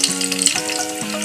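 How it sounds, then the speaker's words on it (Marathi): Garlic frying in hot oil crackles and sizzles steadily at close range in a home kitchen, a brief bright spatter with no voices. "आपलं तेल गरम झालंय, तर तेलात आपण लसूण घालूया"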